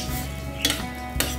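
Chicken breast stirred in a pan with a utensil, two quick metallic scrapes against the pan over a steady low sizzle, close and clear.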